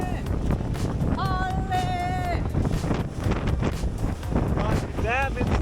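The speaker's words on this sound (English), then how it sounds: "it's so windy" Strong wind gusting across the microphone at Tokyo DisneySea on a rainy day, a continuous loud roar with brief rising tones and a voice cutting through the rumble.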